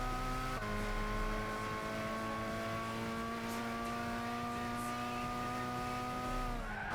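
High-revving racing car engine from Gran Turismo 6, an Enzo Ferrari chase, holding a steady loud whine with shifting pitch and a brief gear change near the start, playing continuously on its own.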